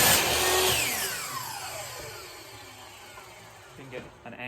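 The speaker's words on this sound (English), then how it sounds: "it's a compound motorized miter box" A motorized compound miter saw winds down after a cut in wood, its motor whine falling steadily in pitch from loud to quieter, with faint talking underneath.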